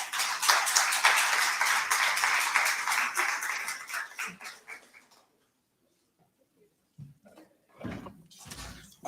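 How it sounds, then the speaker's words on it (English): A book-event audience applauds a speaker's introduction, dense clapping for about five seconds that fades out, followed by near silence and a few scattered thumps and rustles. "So please give him a round of applause."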